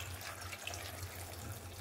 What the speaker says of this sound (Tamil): முழுகரவு தண்ணி ஊற்றி